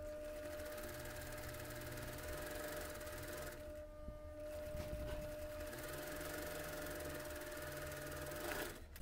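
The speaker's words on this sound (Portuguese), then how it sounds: "Agora voltando com a costura reta." A sewing machine hums continuously while sewing a straight stitch on a homemade face mask, with a steady motor drone that briefly dips midway before resuming.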